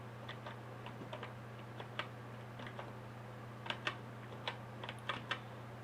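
Fingers tap on a computer keyboard while a date is typed into an Excel spreadsheet, giving faint, light clicks in short irregular bursts over a steady low electrical hum.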